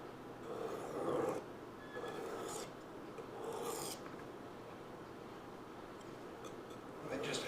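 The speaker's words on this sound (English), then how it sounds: "And now I'm going to very lightly take that burr off." Knife blade lightly honed to remove a burr, quiet rasping strokes repeated at an unhurried rhythm, close and soft, with a faint voice at times.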